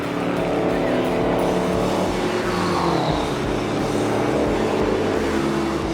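A 24 Hours of LeMons race car on warm-up laps, heard from inside the cabin as a loud constant engine drone with shifting pitch and a rough rumbling undertone, filling the whole moment.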